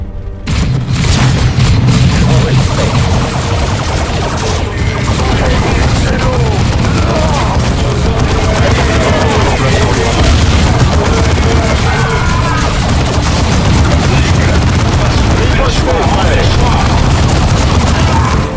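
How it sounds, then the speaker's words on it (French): Flash grenade blasts and dense gunfire in the strategy game Dawn of War 2, a continuous loud battle of booming explosions and rapid shots filling the whole stretch, with game voices mixed in. "Ah, c'est des grenades flash."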